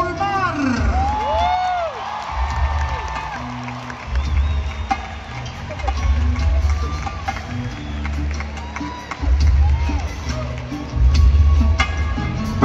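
A large arena audience at a live concert in Monterrey cheers, whoops and applauds in sustained waves for a band member during introductions, with music and crowd noise swelling loudly near the end.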